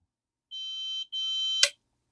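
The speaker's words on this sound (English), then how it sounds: "You'll hear another beep." Two clean electronic beeps in quick succession from a LightStim red light therapy device, the second slightly longer, ending with a brief click; quiet and alone.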